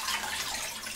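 Cold water runs steadily from a tap into a pot holding a chicken carcass and knuckles, a continuous close hissing splash with no talk over it.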